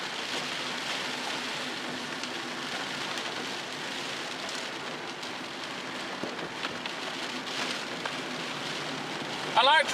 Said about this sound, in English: I like driving in the rain.